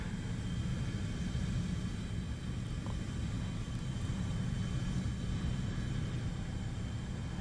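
A player-controlled plane's engine drones in the combat flight game War Thunder, a steady, loud rumbling hum that barely changes throughout, with no voices.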